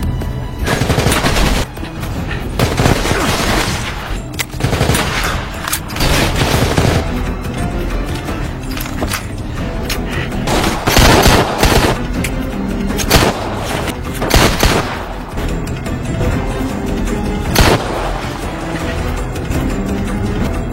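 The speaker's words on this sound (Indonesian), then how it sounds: "mereka saling tembak dan berjuang untuk saling mengalahkan" Film battle with sustained gunfire, bursts of automatic and single shots mixed with heavy thumps and booms, dense and loud throughout.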